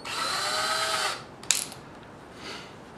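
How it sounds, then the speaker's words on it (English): A small power drill bores a shallow pilot hole in wood for a screw, whirring briefly for about a second, then stops, followed by a faint clack and low handling noise. "you're going to drill it out just a little bit just for the screw to, to guide itself in"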